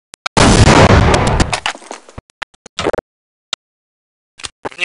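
Grenade explodes in Counter-Strike 1.6 with a loud close blast and decaying rumble, followed by scattered sharp clicks and short bursts of game sounds.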